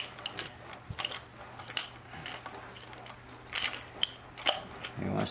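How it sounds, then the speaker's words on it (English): A hand screwdriver backs screws out of a nail gun during a piston replacement, giving scattered close ratcheting clicks and scraping metallic ticks at an irregular pace over a faint hum. "Let's say first I'm gonna go just with this screwdriver."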